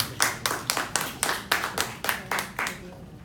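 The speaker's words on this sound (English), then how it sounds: "Please give him a round of applause." A small audience claps in a slow, unified rhythm, about ten distinct beats spaced evenly, welcoming a guest speaker to the stage at a mentoring event before the clapping fades out.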